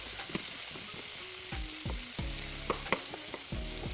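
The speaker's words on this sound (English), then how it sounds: "We're gonna let these mushrooms saute for a little bit" Mushrooms sautéing in a butter and oil mixture, a close, steady sizzle broken by several clanking utensil knocks against the pan over a few seconds, with no voices.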